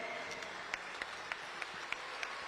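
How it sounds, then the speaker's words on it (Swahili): Audience at an ODM National Governing Council political meeting at the Bomas clapping in a steady, broad wash of applause, with a few sharper individual claps standing out over the crowd noise. "mzee anasema msimame mpigiwe makofi"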